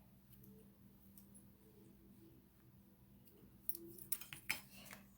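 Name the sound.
scissors cutting ribbon tails on a card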